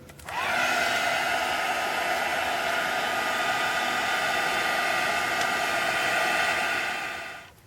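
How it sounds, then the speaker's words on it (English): A heat tool blows a steady, loud, even whoosh while heat-setting embossing powder, starting abruptly and holding for several seconds before tailing off, with no talking. "And we'll heat set this now."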